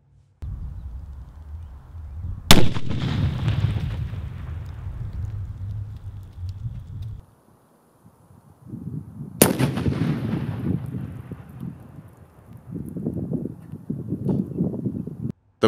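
A shaped charge made from a Coke bottle detonates against stacked steel target plates. Two sharp, loud blasts each roll off into a long, rumbling echo, and a low crackling tail follows.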